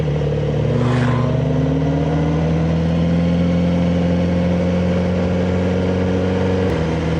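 Kawasaki Z900RS motorcycle engine cruising in fourth gear, a steady close low drone with a gently shifting pitch and a brief dip near the end, heard without talk.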